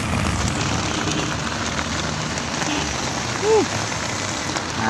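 Heavy rain pounds a tarp in a dense, steady drumming hiss, close and constant throughout, with a brief faint tonal sound near the end.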